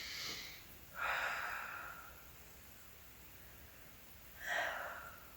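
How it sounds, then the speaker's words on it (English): Two deep breaths taken during a Pilates exercise on a Wunda Chair, each a soft airy rush about a second long with a quiet pause between, close and faint, with no talking. "I'm going to do 2 more big breaths here."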